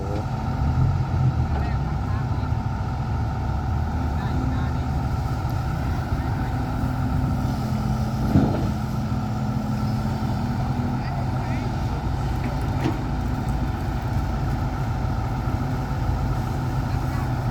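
A car drives along smoothly, its engine a steady low drone heard from inside with a single soft thump midway. Someone talks over the engine noise.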